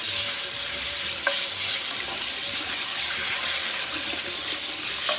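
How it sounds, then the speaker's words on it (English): Hot tap water runs steadily into a sink over a cast iron skillet as it is scrubbed, giving a loud, continuous rushing hiss with faint scraping and clinks underneath. "I just leave it under the hot water for a couple minutes while I'm scrubbing away."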